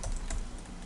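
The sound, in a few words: typing a user ID on a computer keyboard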